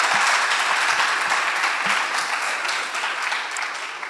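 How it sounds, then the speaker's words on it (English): An audience at a high school debate between Alliance High School and Nyeri High School claps in loud, sustained applause that eases slightly toward the end. "A greater round of applause, please."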